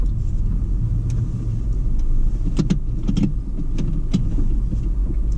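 A car rumbles steadily from inside the cabin as it turns around to head the other way, with occasional small clicks and knocks over the low engine and road drone; no speech.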